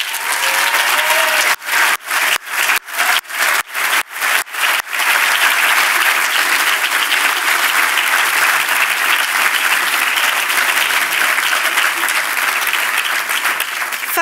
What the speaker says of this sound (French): je pense que nous devrions avoir quelques applaudissements pour Isabelle Simonis